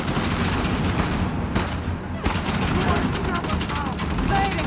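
Dense, rapid gunfire crackles in a firefight from the video game Uncharted: Lost Legacy, loud bursts piling over one another almost without pause across the whole stretch.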